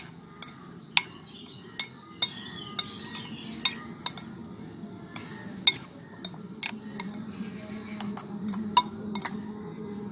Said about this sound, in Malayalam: അപ്പോൾ നമുക്ക് ഇതും കൂടി ഇളക്കി കൊടുക്കാം.